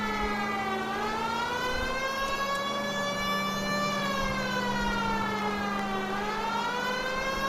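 A police siren wails steadily and loudly in the video game L.A. Noire, its pitch sweeping slowly up and down in long cycles over a low engine rumble.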